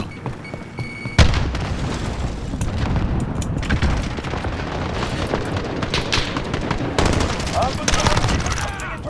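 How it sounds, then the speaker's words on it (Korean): A grenade blast followed by sustained automatic gunfire and scattered shots in a Call of Duty: Modern Warfare team deathmatch at a firing range, loud and continuous with muffled voices underneath. "수류탄 투척"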